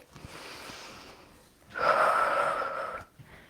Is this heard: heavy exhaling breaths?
yes